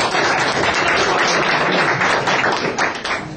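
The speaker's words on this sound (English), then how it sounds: "So let's give him a round of applause." Applause at a membership social welcoming a poet from Oklahoma Baptist University, a loud, full burst of clapping from a close crowd that stays dense throughout its few seconds and eases slightly at the end.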